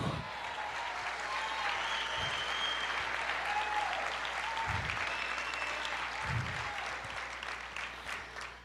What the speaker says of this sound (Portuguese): Aplauda mais